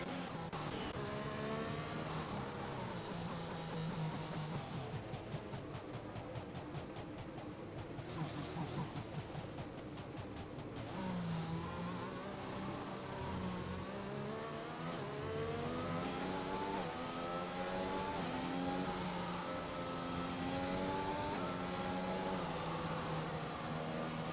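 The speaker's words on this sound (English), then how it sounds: "And then safety car still going round." A safety car circles the track in an F1 racing game at the Japan round, a steady engine drone with rising and falling revs through gear changes, continuous and close, with light commentary in the background.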